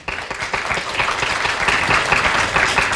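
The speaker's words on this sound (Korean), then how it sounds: "박수 부탁드립니다." Audience applause at a paediatrics symposium lecture in Korea, a dense, steady burst of many hands clapping that fills the hall for the whole stretch, fairly loud and without talk over it.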